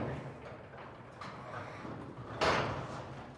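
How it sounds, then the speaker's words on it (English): A garage door is pulled down by hand after its Chamberlain opener is released, giving a low rumbling roll with rattles and a louder clatter near the end, no voices. "so you can roll the door down by hand"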